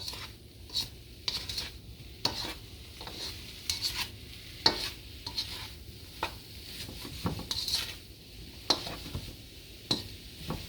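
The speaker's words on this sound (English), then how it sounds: "they sound different as I toss them around the pan" Sweet potatoes stirred and tossed in a hot wok, with repeated scraping clatters over a steady sizzle, close by and moderately loud.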